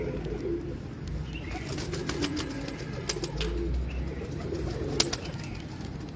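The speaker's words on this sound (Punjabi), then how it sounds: "ਇਹ ਉੜਿਆ ਹੋਇਆ ਕਬੂਤਰ ਕਾਲੇ ਮੂੰਹ ਵਾਲਾ?" A black-faced pigeon cooing softly over a low background, with a few sharp clicks and a brief flutter of wings near the end.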